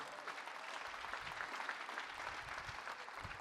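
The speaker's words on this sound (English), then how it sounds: "So give yourselves a round of applause" Applause from an audience at a company AGM, a steady wash of many hands clapping that stays fairly even and quiet throughout.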